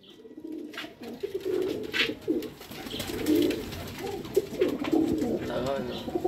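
Royal Teddy pigeons coo repeatedly in soft, throaty pulses close by, with occasional flutters and background noise; someone talks intermittently over the birds.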